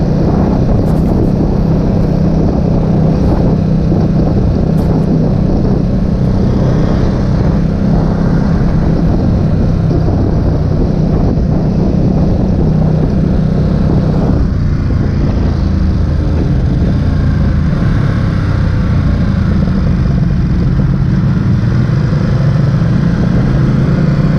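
A Ducati Supersport S motorcycle engine drones loudly and continuously while the bike is ridden. A low, steady roar mixes with heavy wind rush, and the pitch shifts slightly as the ride goes on.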